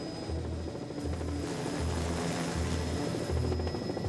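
A helicopter races across the sky over the Swiss Jura during a 1988 police expulsion operation, its steady rotor thumping in loud, regular pulses with a sustained engine whine, alone and close.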